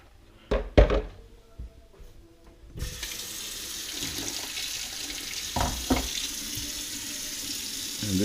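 Tap water running into the water tank of a Bissell ProHeat 2 carpet cleaner, a steady hissing pour that starts after a few knocks and clunks as the tank is handled, continuing at an even level.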